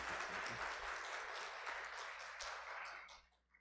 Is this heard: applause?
yes